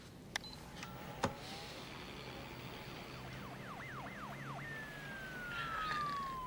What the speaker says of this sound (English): Police siren. Pretty obvious.